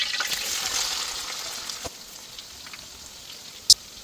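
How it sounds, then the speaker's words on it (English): Chopped onions sizzle in a pot of hot red oil for egusi stew, a soft, crackling fry that fades a little partway through, with one sharp click near the end. "we'll be going in with generous amount of chopped onion"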